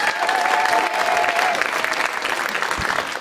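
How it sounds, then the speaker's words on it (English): Sustained, loud audience applause for Eric Arnold at a KQED Live street dance event in the Bay Area, a dense, steady wash of clapping with some crowd noise throughout. "Can we get a round of applause for Eric Arnold?"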